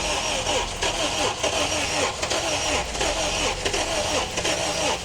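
An Acura car engine cranks and struggles to start, a close, continuous churning drone with uneven pulses throughout, while a person talks over it.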